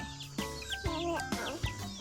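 Backyard chickens kept at home cluck and chirp close by in a steady run of short calls over a low murmuring background.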